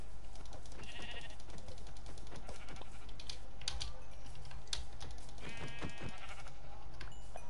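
Minecraft sheep bleat a few times in the game, with quick computer keyboard typing clattering throughout.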